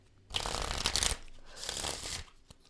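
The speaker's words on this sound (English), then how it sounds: "I'm going to get into this Beach Time Soul deck." Oracle cards from a beach-themed deck shuffled by hand in two close, loud bursts of riffling and sliding, with a short pause between them and no talking.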